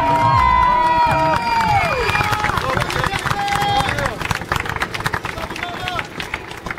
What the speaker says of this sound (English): Just give her a big applause,